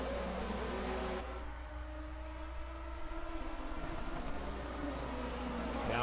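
Historic 1980 DRM Division 2 race cars at the ADAC-Westfalen-Pokal race sweep through the final chicane, a steady loud engine drone with a shift in pitch midway, no speech.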